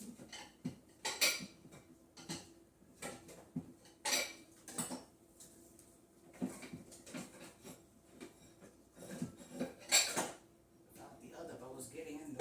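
A large bowl being pulled out from among other dishes sets off a series of ceramic clinks and clatters, irregular and fairly close, with short pauses between knocks as the bowls shift and touch.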